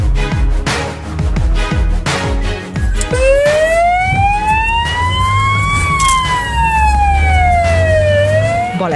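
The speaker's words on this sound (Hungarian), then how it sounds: "az egyenruhások szirénázva igyekeznek a helyszínre" A police car speeding to an accident scene in Székesfehérvár wails loud and close, its siren rising and falling over busy traffic noise.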